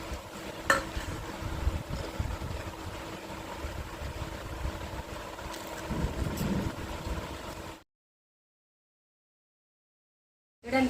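Bajji fritters frying in hot oil as rain falls outside, a steady dense crackle and hiss that runs for about eight seconds, then cuts to silence before a brief return.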